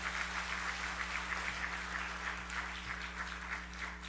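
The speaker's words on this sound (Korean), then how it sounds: "우리 박수로 환영합니다" Church congregation applauding in welcome during a Sunday service, a steady wash of hand claps filling the sanctuary at a moderate distance, continuous and even over a low hum, with no talk over it.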